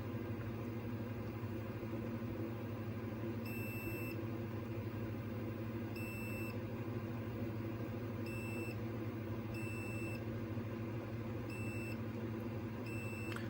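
An Xbox 360 S console with a red dot of death fault emits six short, high electronic beeps at irregular intervals over a low, steady hum.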